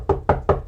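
Knuckles rapping on wood: three sharp, evenly spaced knocks, close and crisp, with brief quiet between each and no voices.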